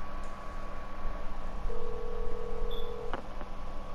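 A phone number is dialed in Metal Gear Solid V: The Phantom Pain, with a few short electronic tones and a longer held tone over a low background hum.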